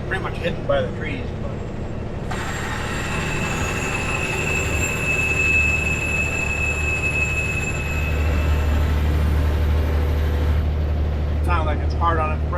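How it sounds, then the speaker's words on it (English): Loud, sustained high-pitched brake squeal from a passing freight train of oil cars braking hard near the Moyie River, over a low rolling rumble, with brief speech at the start and end. "Sounds like it's hard on its brakes."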